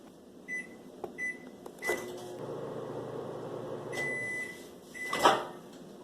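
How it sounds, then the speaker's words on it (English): A microwave oven runs for a short heating cycle with a low steady hum, framed by door clunks, button beeps and clicks, and ends with a rattle as the door opens. "now we're going to microwave this for 30 seconds"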